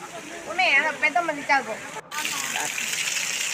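Water gushing at the Paladhara Panchadhara stream in Srisailam, a steady rushing flow that continues under and after someone talking.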